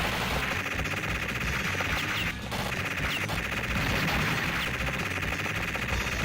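Rapid gunfire in a Neo-Geo arcade shooter, a dense, continuous rattle of machine-gun shots with a brief dip partway through, loud and steady over game noise.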